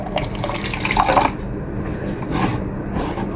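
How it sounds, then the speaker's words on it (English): Tap water runs steadily from a kitchen faucet into a bowl or container for baking, a continuous splashing stream that briefly shifts in pitch as the vessel fills, with no talking. "regular tap water"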